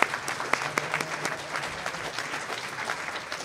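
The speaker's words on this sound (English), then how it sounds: "Let's give them a round of applause" A live audience gives a round of applause to the farmers at a community event on food and farming in the Rogue Valley. The clapping is steady and somewhat distant, with no voices over it.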